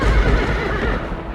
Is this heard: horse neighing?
yes